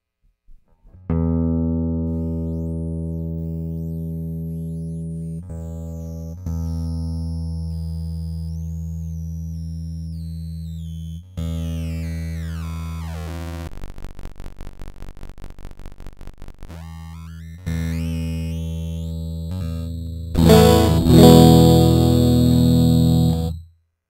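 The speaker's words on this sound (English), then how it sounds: "This control allows you to go from no decimation all the way down to some very severe aliasing effects." Ottobit sample-rate decimation plugin processing a sustained synth tone, moving from clean to harsh, buzzy aliasing with sweeping metallic artifacts and glitchy steps, ending in a noisy distorted burst; no speech.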